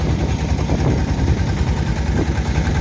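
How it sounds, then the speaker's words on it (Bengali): Engines of two sand-carrying trawler boats on the Meghna river chug in a steady, loud, low throbbing drone with no talk over it. "এই দেখেন দুইটি যাচ্ছে ট্রলার"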